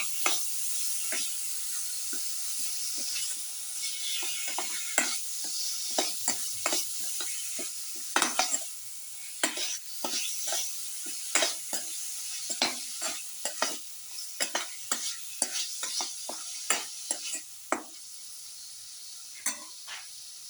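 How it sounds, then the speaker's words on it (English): Beef pieces are stirred into a sizzling tomato mixture for a garlic tomato beef casserole, with repeated scraping and clacking stirring strokes over a continuous hiss of frying, close up. "Salt and mix the beef piece with the rest of the mixture."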